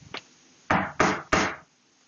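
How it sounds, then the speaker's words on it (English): Knocking on a wooden side table in a room: one faint tap, then three firm raps in quick succession, close and fairly loud, with no voices. "I just knocked on my side table"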